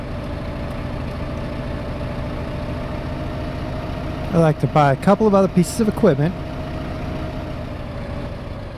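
Steady low drone of a tractor engine idling in the video game Farming Simulator 15, constant and fairly loud throughout, with someone briefly speaking over it midway.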